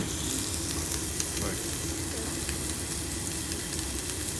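Meat pressed down into a hot, slightly uneven pan sizzles loudly and steadily, a dense crackling hiss close up that continues without a break.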